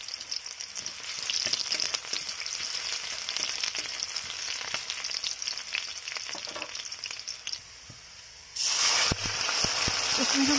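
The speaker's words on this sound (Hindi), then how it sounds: "अभी तेल में कुछ कटे हुए प्याज डालेंगे।" Chopped onions go into hot oil and fry with a steady loud sizzle and hiss. After a short dip the sizzling surges back stronger as the onions hit the oil.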